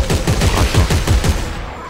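The player's weapon fires in Dead Space 3, a rapid burst of about ten close, loud shots in steady rhythm that stops abruptly, leaving a brief quiet tail.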